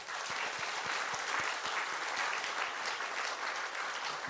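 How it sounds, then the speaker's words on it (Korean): A church congregation applauds its Sunday school teachers, who stand at the front, with steady, sustained clapping filling the room throughout and a few sharper individual claps standing out near the start. "우리 박수로 격려합니다."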